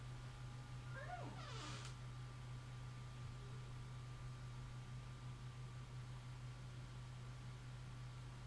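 A house cat gives a single rising meow early on, faint and somewhat distant, over a steady low electrical hum that continues alone afterward.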